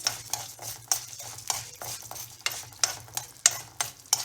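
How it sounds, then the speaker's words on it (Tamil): Urad dal sizzles in hot oil in a pan for coconut chutney while a spoon stirs it in quick repeated scrapes and clinks, all close-up over a faint low hum, with nobody talking. "நல்லா உளுத்தம்பருப்பை நல்லா கோல்டன் ப்ரௌனில் வறுத்துங்க"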